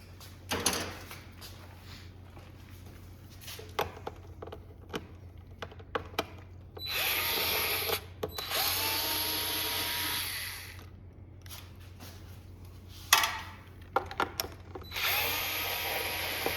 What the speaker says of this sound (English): On the top, you have to remove the screws that hold the top cap on.